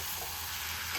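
Meat frying in a pan with little oil in a home kitchen, a brief, even hiss of sizzling with nothing else over it.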